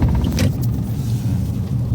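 Car engine idling and creeping slowly while turning in a narrow residential lane during a beginner's driving lesson, a low steady rumble close by, with a brief brighter scrape or knock early on.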